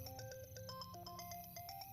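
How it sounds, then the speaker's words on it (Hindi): A phone ringtone plays a quick, repeating melodic pattern, quiet and continuous throughout. "तेरा फोन बज रहा है"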